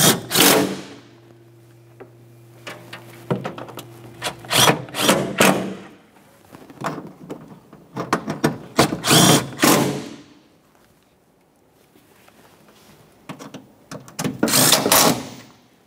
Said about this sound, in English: Let's tighten those 10mm bolts.